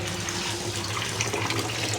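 Water runs steadily from a tap, a continuous close rushing splash with no voices.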